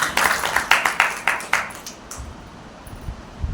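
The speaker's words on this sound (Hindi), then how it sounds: "आप उनका ताली बजाकर स्वागत कर सकते हैं" Audience clapping to welcome a donor at an Arya Samaj bhajan and sermon gathering: a burst of scattered, uneven claps that thins out and fades into room murmur.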